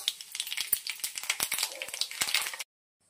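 Mustard seeds and cumin in hot oil in a kadai splutter and crackle in a dense, rapid run of pops, close and fairly loud, then cut off abruptly into silence.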